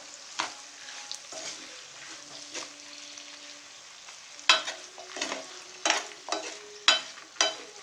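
Curry leaves and coriander fry in oil for a tomato chutney, a faint sizzle broken by a series of sharp, irregular stirring scrapes and clatters that grow busier toward the end.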